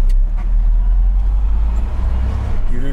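A Ford F-Line truck's engine gives a steady, loud low rumble as the truck pulls away, with faint traffic-like noise around it and no talking.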